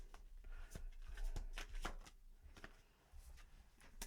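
Tarot cards shuffled by hand during a love reading, a run of soft crisp riffles and flicks repeating close and fairly quiet, with no voice over them.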